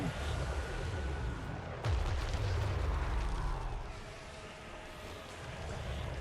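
Artillery fire in a war strategy video game: a dense, continuous rumble of booming blasts with one sharp louder impact early on, sustained low roar throughout, no voices.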